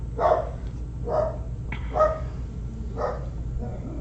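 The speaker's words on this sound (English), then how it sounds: "Neighbor's dog is barking, so everyone is making their announcements." A neighbour's dog barks several times in a steady rhythm, four or five sharp mid-distance woofs spaced about a second apart over a low background hum.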